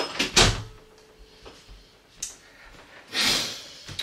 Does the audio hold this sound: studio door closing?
yes